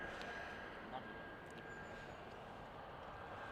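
A departing airliner at Manchester Airport gives a steady, distant, faint engine roar under a broadband outdoor hiss.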